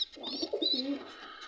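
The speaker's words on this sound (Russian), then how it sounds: "Это голубь." Pigeon cooing in a loft, a continuous rolling coo lasting over a second, close and clear with no talk over it.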